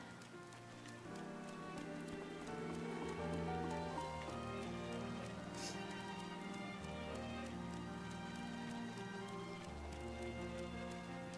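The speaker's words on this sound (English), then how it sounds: "Oh, we just go running through the rain." Steady rain patters in the video game Atelier Ryza DX while a character runs through it, the hiss continuous under a layer of soft game music.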